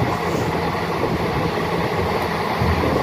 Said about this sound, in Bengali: দেখতে পাচ্ছ ট্রেন খুবই স্লো।